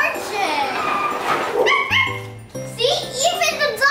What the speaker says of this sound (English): Oh, look, there's a dog barking.